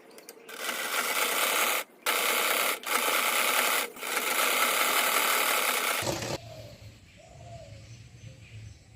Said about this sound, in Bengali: এবার আমি সেলাই করব।